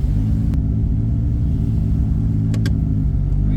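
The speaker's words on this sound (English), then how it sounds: "I like to be in neutral when we're sitting still, just so that way it's not bogging down the engine." Toyota 2JZ engine in a Nissan S14 with an 8HP70 swap idling in neutral, a steady low rumble throughout with a couple of faint clicks, no speech.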